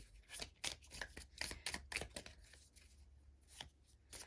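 Tarot cards being drawn and shuffled during a pick-a-card reading: soft, close flicks and riffles of card stock in quick irregular bursts, very quiet, no talking.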